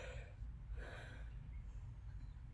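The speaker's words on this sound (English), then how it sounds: "That was a yawn." A person yawns during a classroom literature lesson, a single drawn-out breathy exhale lasting a couple of seconds, close and moderately quiet, with no talk over it.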